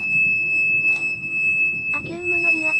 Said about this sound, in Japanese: アキュームの油圧センサーのアラームが死ぬほどうるさいのでカプラーを外します。